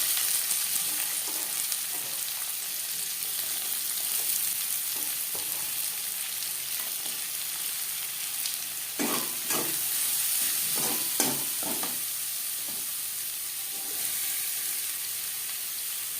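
Chopped onions fry in the oil left from frying boal fish, giving a steady, even sizzle throughout, with a short burst of stirring clatter and crackle partway through.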